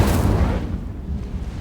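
The Incendio fire spell in Hogwarts Legacy is cast with a loud booming burst that rumbles and fades over a second and a half.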